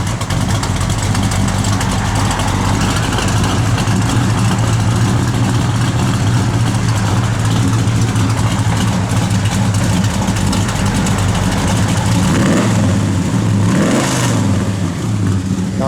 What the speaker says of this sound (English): Car sounds mean out the back too.